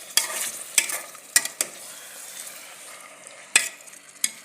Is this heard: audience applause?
no